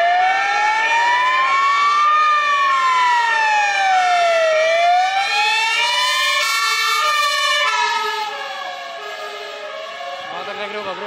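A fire engine siren wails loudly and close at a street protest in Wrocław, its pitch sweeping slowly up and down, with a horn-like blare layered on top.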